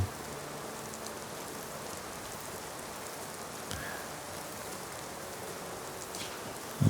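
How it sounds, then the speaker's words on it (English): Steady rain falls in Skyrim, a constant even wash of drops with no voices, with one soft thump partway through and a brief louder knock at the very end. "The rain is coming down."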